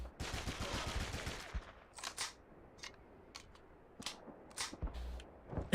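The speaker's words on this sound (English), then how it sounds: "it literally sounds like somebody recorded a gun being reloaded on a Zoom call" Gun reload in a video game, thin and echoey as if captured in a small room over a cheap call: a burst of rattling metallic clicks up front, then several sharp separate clacks spaced through the rest, close and fairly quiet.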